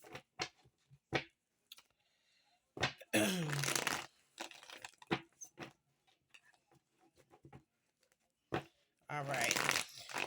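Cards are shuffled in quick riffling bursts, separated by short pauses and a few soft taps, with quiet talking in between.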